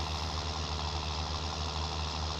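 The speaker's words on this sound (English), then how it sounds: "Beautiful tractor on the road, this one." A Farming Simulator 19 tractor engine labours steadily up a hill, a continuous loud low drone with a constant hum that stays even for the whole stretch, with no voices.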